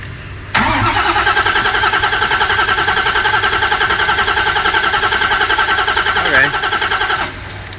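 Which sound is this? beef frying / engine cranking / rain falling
engine cranking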